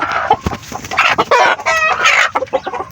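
A chicken clucks loudly and close by, a busy run of short calls with a drawn-out squawk in the middle.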